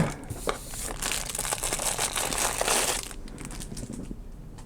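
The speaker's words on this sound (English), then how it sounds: "I'm just gonna cut this open." A plastic package of craft supplies is cut and torn open up close, giving loud crinkling and crumpling rustles that ease off toward the end, with no talking.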